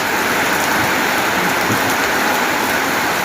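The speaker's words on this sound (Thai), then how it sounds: "ฝนตกน้ำไหลทาง" Heavy rain pours down outdoors in a steady, dense, loud hiss with no break, close around the listener, with no voices.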